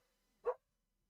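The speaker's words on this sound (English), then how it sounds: "you can hear my dog barking" A single short dog bark from out in a garden, moderately loud and heard alone against near silence.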